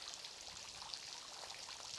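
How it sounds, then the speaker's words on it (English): A waterfall beside a disc golf course at the 2019 PCS Open in Scandinavia: a faint, steady, hissing rush of falling water heard at a distance, continuous and even throughout with no voices. "We hear the waterfalls."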